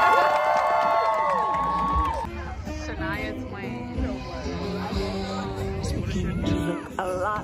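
A large outdoor crowd cheers and claps at the National Christmas Tree Lighting, a steady roar of voices and applause with whoops, and tonal music or a voice riding over it.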